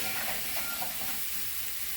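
Over a pound of lean ground turkey fries in a non-stick pan, a steady close hiss and sizzle with soft scraping as it is stirred, no voices.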